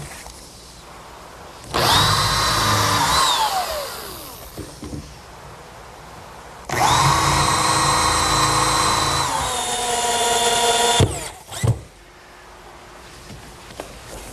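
Power drill driving screws through the center cleat of a wooden picnic table, two long close whirring bursts that slow as each screw seats, followed by short clunks.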